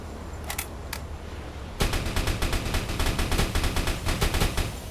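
A submarine's gun firing in the game UBoat: a couple of isolated shots, then loud rapid bursts of repeated cracks in quick regular rhythm, close and dominant over faint background hum.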